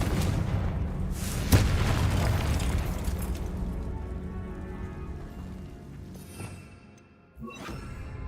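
Confringo blasting spell explosion in the video game Hogwarts Legacy: a sharp, loud blast followed by a long booming rumble, then a second, smaller burst near the end, with no talking.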